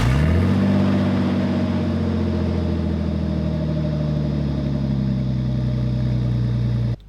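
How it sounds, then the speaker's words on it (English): A car engine with a straight-pipe exhaust cold-starts and settles into a loud, rumbling idle with a raw, throaty exhaust drone, steady for several seconds before cutting off. "Of course we had to cold start it while the straight pipe."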